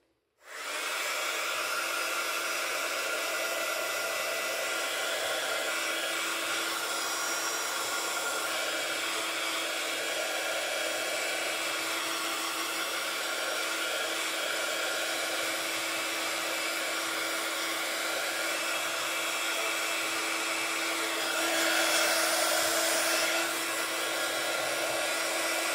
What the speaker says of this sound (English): I'm just going to get the heat tool out again and just quickly give that a